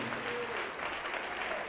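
A church congregation claps steadily and continuously, a dense wash of applause filling the room throughout.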